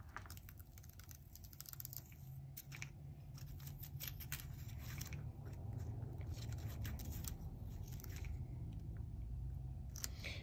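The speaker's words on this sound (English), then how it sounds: "I am going to cut because it's not liking me very well." Scissors snip through an Easter greeting card, crisp repeated cuts and small crunches close up and steady, with no speech.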